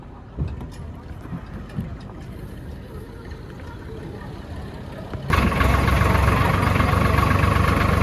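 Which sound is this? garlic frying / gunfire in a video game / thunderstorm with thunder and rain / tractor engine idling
tractor engine idling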